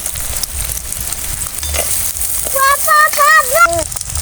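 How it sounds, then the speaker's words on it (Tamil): Onions and green chilies frying with chana dal in a pan, a steady close sizzle with some stirring, while a voice talks over the cooking. "நம்ம வெங்காயத்தை உள்ளே சேர்த்துக்குவோம் அப்புறம் பச்சை மிளகாயை உள்ளே சேர்த்துக்குவோம்"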